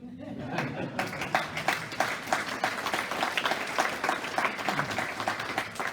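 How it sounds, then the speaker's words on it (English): Audience at an evening awards celebration breaks into applause, quickly swelling into dense, sustained clapping with some chatter and chuckling mixed in, fairly close and steady. "You all should stop and applaud me."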